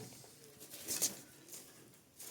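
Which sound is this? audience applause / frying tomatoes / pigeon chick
pigeon chick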